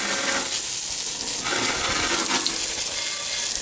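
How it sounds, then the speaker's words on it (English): A hose rinses cleaner and black soot off a John Deere 430 lawn tractor, giving a steady close hiss of spraying water that splatters and shifts in tone as the stream moves over the machine. "Give it a good rinse with the hose."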